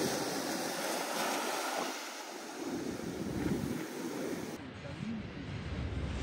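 Sea waves wash onto a beach as a steady, broad rush of surf, with wind buffeting the microphone throughout, recorded at the shoreline.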